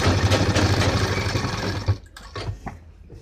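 A sewing machine stitching a back pant pocket, running in a fast, steady rhythmic whir up close, then stopping with a few scattered clicks and handling sounds.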